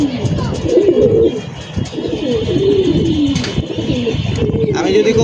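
Several pigeons coo repeatedly at close range, with low rolling calls that overlap in a loose rhythm. Someone talks throughout, and his voice partly mixes with the cooing.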